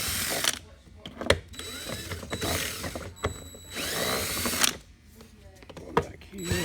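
Power drill backing Phillips screws out of a BGU PRO14/PRO18 vacuum motor cover, several short whirring bursts with clicks and ratcheting between them, close by, with some talk and handling noise mixed in.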